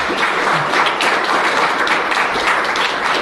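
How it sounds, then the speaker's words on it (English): Audience applause for a Goodwill admiral's mission, a thick, continuous wash of many hands clapping at a constant, fairly loud level throughout. "How about a round of applause for that mission?"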